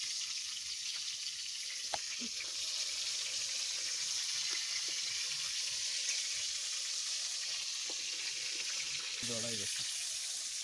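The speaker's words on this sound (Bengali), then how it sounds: "তার জন্য মাছ ভাজা করতেছি না" Tuna fish frying in oil makes a steady, quiet hiss with faint scrapes and small clinks throughout, and a brief voice breaks in near the end.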